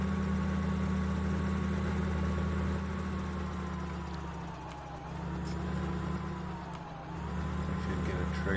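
A tractor engine in a farming video game drones steadily while pulling a John Deere seeder, a low constant hum with a faint whine rising and dipping slightly, briefly easing around the middle.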